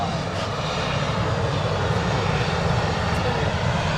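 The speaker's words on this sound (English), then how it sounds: "TUI Dreamliner just lining up at the start of the runway now." Jet engines of a TUI Boeing Dreamliner rumble and roar steadily as it lines up on the runway at Manchester Airport, a loud, constant broadband drone heard from a distance.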